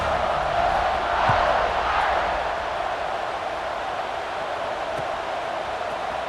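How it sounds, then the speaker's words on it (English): Stadium crowd in the football video game College Football 26, buzzing after a score, a dense, sustained roar of many voices, loud and steady, swelling slightly early on, then settling. "this crowd is buzzing after that last score"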